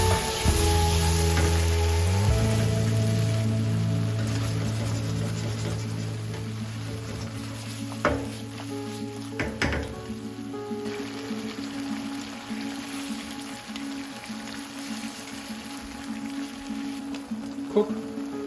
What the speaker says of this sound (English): Stir it often.